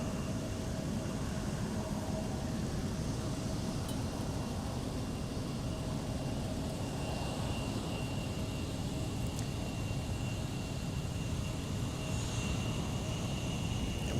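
An Airbus A320neo jet on approach to land at Minneapolis–Saint Paul airport produces a steady, distant broadband engine roar and rush that holds evenly throughout, with a faint high whine running over it.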